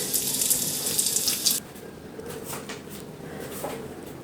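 Jaggery water poured into a pan of browned fennel seeds, a bright splashing pour for about a second and a half that then stops, leaving faint kitchen clatter and soft bubbling.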